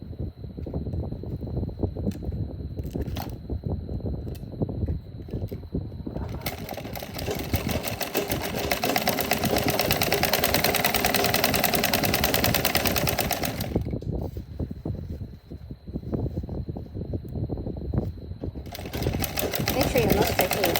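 A sewing machine stitches the side seams of a tank top in a steady, close, rapid whir, running in long stretches with pauses between them, while a voice talks throughout.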